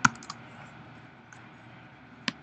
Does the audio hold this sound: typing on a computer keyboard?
yes